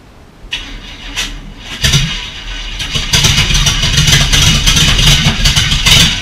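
A Chevy 350 V8 with open headers, fitted in a 240Z Datsun, fires up on its first start after a few cranking bursts, then settles into a loud, raw, sustained rev close by.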